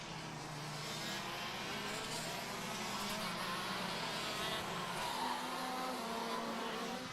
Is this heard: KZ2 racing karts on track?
yes